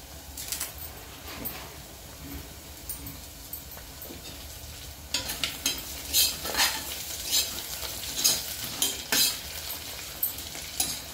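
Mint leaves stirred into mutton gravy frying in a pan, a steady close sizzle broken by scraping spoon strokes that grow busier and louder partway through, with no talking.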